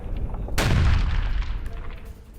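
A heavy boom from a Russian military attack bursts out close and loud, its rumble rolling and fading over the next two seconds against a noisy battlefield background.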